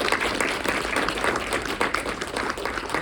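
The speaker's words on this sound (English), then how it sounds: "let's give Laura a round of applause and appreciation" An audience at an oncology celebration of life claps in appreciation, the applause dense, close and steady throughout.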